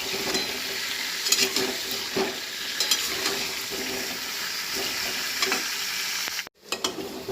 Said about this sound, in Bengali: আলুটা একটু ভেজেই করবো আলুর দমটা